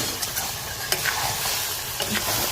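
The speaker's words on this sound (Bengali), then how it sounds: "চিকেনটাকে ভালোভাবে আধ ঘন্টা ধরে কষিয়ে নিতে হবে" Chicken curry being stir-fried in a pot over a wood fire, with a steady sizzle and scraping stirs throughout and a few sharp clinks of the spoon, close and fairly loud.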